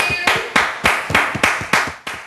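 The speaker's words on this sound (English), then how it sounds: "Let's give them a round of applause." A few people clap in a quick, irregular rhythm, about eight sharp close bursts of hands striking together, each decaying briefly before the next, in a small indoor room.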